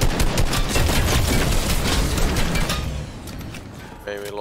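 Rapid sustained gunfire in the video game Fortnite, a dense rattle of shots that fades toward the end, with a player talking faintly in the background.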